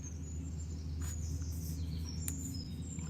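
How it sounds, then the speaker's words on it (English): Birds chirp and sing outdoors in short, high calls scattered over a steady low background rumble, moderately near and clear, with no talking. "listening to birds"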